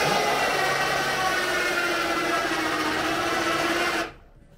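Motorized rams whirring steadily as they compress on a bike sled rig rated at about 280 Nm of torque, a loud continuous mechanical drone that stops abruptly near the end.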